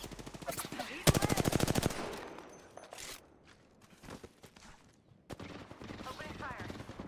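Rapid bursts of video game gunfire crackle in quick automatic volleys with sharp single shots between, loud and close, under occasional game noise.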